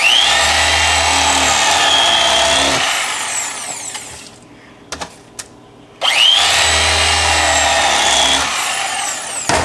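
An electric fillet knife buzzes loudly as it cuts the ribs out of a fish, two long bursts of whining motor separated by a quiet pause with a few small clicks.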